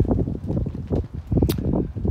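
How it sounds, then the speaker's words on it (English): Gusty wind at an outdoor sawmill build site buffets the microphone in loud, uneven rumbling bursts that swell and drop over a couple of seconds. "if it's windy like this, I can't spray"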